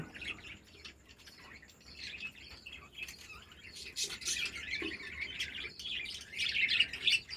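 Budgerigars in an indoor breeding colony chirp and twitter in quick, overlapping bursts at moderate distance, growing busier and louder toward the end.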